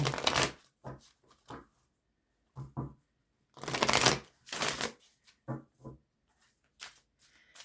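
A deck of oracle cards is shuffled during a reading, with bursts of riffling and clattering close to the listener, broken by short pauses and quieter taps, and no one speaking.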